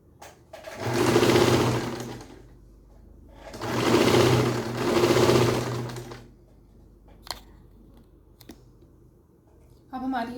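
A sewing machine runs in two loud bursts, stitching the side seam of a pair of ladies' pants, with a short pause between runs, then scattered clicks and handling noises before the motor briefly starts again.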